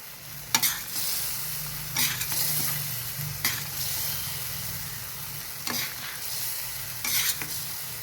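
Paneer and fresh coriander fry in a spiced masala, a low steady sizzle broken by several sharp spoon scrapes and clinks against the pan at irregular intervals, close and without talk.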